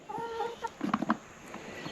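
Hens cluck and chatter nearby in short bursts, a few soft calls followed by a quick cluster of clucks, then quieter farmyard background.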